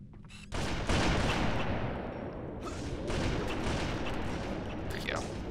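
Team sniper match in Halo MCC: a heavy, sustained wash of gunfire starts abruptly and rolls on, with a few sharper cracks poking through and a voice faintly beneath.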